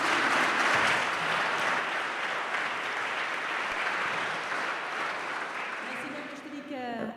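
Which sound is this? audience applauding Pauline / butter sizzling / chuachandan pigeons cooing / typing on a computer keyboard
audience applauding Pauline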